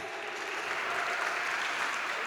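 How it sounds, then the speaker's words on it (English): An audience at a borough president's speech breaks into steady, sustained applause, a dense wash of clapping with no voices over it. "That deserves a round of applause."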